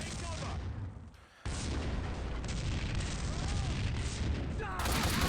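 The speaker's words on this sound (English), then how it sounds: "Take a grenade, nerds!" A grenade blast in Max Payne 2, a sudden loud boom followed by dense crackling debris and gunfire-like bursts, close and sustained, with someone talking over parts of it.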